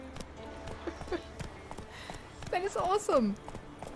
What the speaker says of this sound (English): A real Skellige horse!